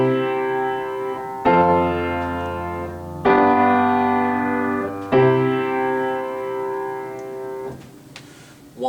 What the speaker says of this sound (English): 1 to 4 to 5 to 1